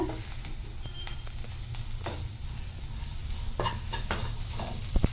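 Onion masala fries steadily in a pan, a continuous close sizzle with scattered scraping stirs against the metal, no voices over it.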